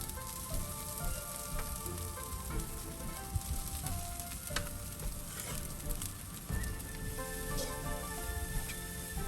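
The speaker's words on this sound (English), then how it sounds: "Mix that in with the vegetables and let it continue to fry." Rice being fried with vegetables in a pan, Guyanese style with chicken liver, sizzling steadily and densely throughout with occasional stirring scrapes, close and continuous with no talking.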